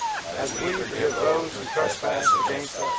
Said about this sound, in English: Yeah, that's Nancy's dogs in the background.